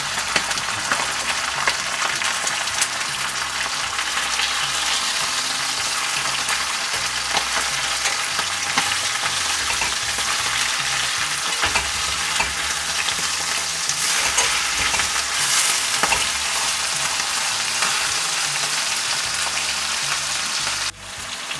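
Flank steak with shallots sears loudly in a hot pan, a dense, continuous crackling sizzle that holds steady throughout, with occasional scraping as the meat is turned, close up and without speech.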